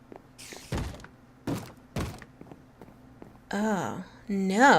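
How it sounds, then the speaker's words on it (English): A zombie knocking on a door in a video game: three dull, hollow thuds spaced about a second apart, followed by a voice speaking. "Do I hear someone knocking?"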